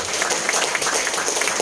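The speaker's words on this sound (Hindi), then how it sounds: "एक बार फूलन देवी के लिए भी जोरदार ताली चाहूंगा" An audience at an honour ceremony in Mumbai breaks into applause, a dense, even wash of clapping that stays loud and steady throughout the short moment, with faint voices mixed in.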